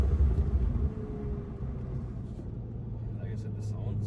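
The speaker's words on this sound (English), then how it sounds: "car does sound pretty good overall." A 2018 Volkswagen Golf R's engine rumbles deep and steady while driving, strongest at the start and then settling into a constant low drone with road noise, with someone talking over it.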